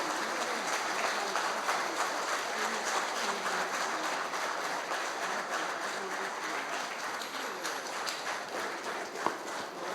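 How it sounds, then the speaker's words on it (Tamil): A hall audience at a Tamil community consultation meeting in Arachalur claps steadily to honour guests, a dense, sustained wash of applause from many hands, even in level for the full ten seconds. "எல்லாம் ஒரு நிமிஷம் கைதட்டி அவங்களை கௌரவப்படுத்துங்க."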